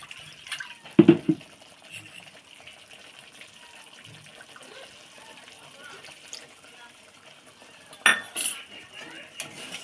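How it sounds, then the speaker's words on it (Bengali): Clattering of dishes and utensils with brief bursts of running water as a bowl is rinsed into a pan of spice paste, close by, separated by a quiet stretch. "একটু জল দিয়ে দেবো বাটিটা ধুয়ে"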